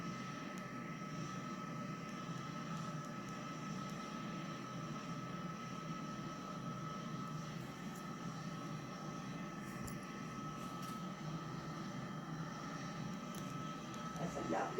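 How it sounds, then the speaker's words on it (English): An aircraft carrying the Queen pulls away from Edinburgh Airport, a steady distant engine roar that holds evenly throughout with background noise of the crowd and setting. "we will see them make one last royal salute to Elizabeth, Queen of Scots, as she leaves and the aircraft pulls away"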